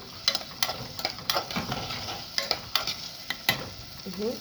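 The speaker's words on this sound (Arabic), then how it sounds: "حطيت البصل اهي تتحمر، لازم تتحمر كويس معانا اهو" Onions fry in a pan for stuffed vegetables with a close, continuous sizzle. Stirring scrapes and clinks break through it now and then, and there is no talk.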